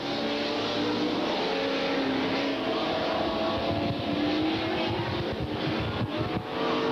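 Super stock cars race on an oval track, with a dense steady roar of several engines that keeps going and swells slightly as the cars pass.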